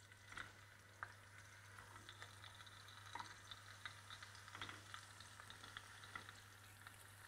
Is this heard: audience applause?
no